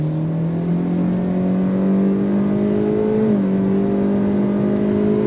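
A Kia K4 GT-Line pulls away under throttle after a U-turn, its engine holding a steady rising hum with a brief dip and recovery midway, loud and close from inside the cabin, with no talk.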